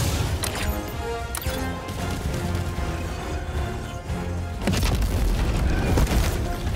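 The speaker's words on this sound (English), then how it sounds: "There's a cannon." Heavy cannon fire in the video game Helldivers 2, a dense, loud booming barrage with repeated blasts and crashes layered over a constant low rumble of battle, with no speech.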